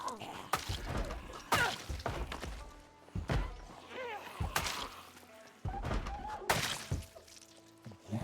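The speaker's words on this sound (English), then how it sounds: "That's other guy banging on the other window." Zombies bang on windows in Project Zomboid, giving repeated heavy thuds and thwacks with occasional glassy crashes in an irregular rhythm, fairly close and loud.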